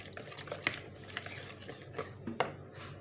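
Macaroni pasta being stirred in a pan for a home-cooked lunch, with faint, sporadic scrapes and clinks of a utensil against the pan over a low, steady background hum.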